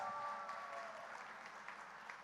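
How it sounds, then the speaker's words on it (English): Audience applause for the women on the panel at a youth event panel discussion, a steady dense clapping that carries on for a couple of seconds at moderate distance with no talk over it. "A last round of applause for all the wonderful women on the stage"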